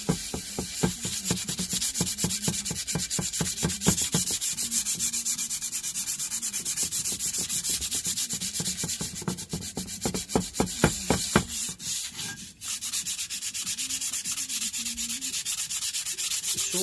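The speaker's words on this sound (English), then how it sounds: "you don't want the sandpaper skating over it" A hand plane is sanded with sandpaper and WD-40 in steady, rhythmic back-and-forth strokes, close and loud. The scraping rasp carries on throughout with only a brief pause, and no one speaks.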